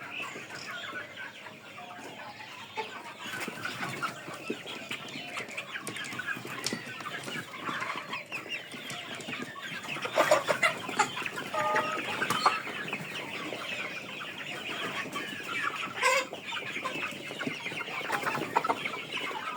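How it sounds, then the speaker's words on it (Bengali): Tiger breed chickens, two months old and raised for meat, cluck steadily as a flock with the odd louder call, a busy continuous farmyard chatter throughout. "আজকে বয়স হচ্ছে এই টাইগার মুরগিটার ষাট দিন"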